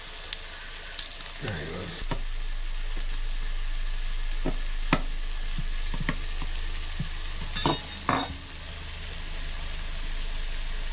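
Garlic cloves frying in a pan for chilli give a steady sizzle, with scattered clicks and scrapes of stirring and a brief spoken remark over it.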